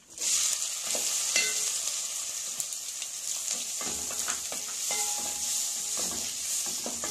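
Ingredients for a cauliflower and pea curry frying in a pan, a loud, bright, steady hiss of oil with occasional spatula scrapes and taps close up, no voices.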